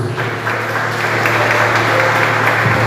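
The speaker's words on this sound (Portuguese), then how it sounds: "aplauda ao nome de Jesus" Church congregation applauding during an evening worship service, a steady dense wash of clapping with a low hum underneath, continuous and fairly loud throughout.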